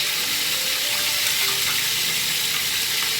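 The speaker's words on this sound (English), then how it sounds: "We are going to add it first because we will fry the ginger and garlic" Ginger and garlic paste fries in a pot alongside potatoes, producing a loud, dense, continuous sizzle with no pauses and no voices.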